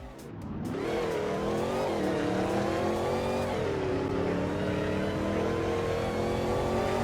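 In the Polish Car Driving video game, a supercharged car engine accelerates hard. It is a loud, steady roar whose pitch climbs, with the compressor whine layered on top and a brief gear-change dip, and no talk over it.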